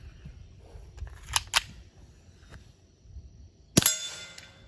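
Suppressed KelTec P17 .22 pistol fed Norma TAC-22 subsonic ammunition, with a few soft muffled reports at irregular intervals and one sharper, louder crack near the end, no talking.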